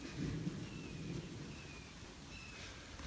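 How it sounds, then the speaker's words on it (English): Steady rain hisses while a low rumble of thunder rolls underneath, distant and continuous, with no voices. "it started raining and thundering"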